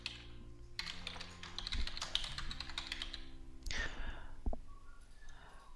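Rapid typing on a computer keyboard into the Windows 10 search box, a dense run of close, crisp key taps for about three seconds, then a few scattered clicks and knocks.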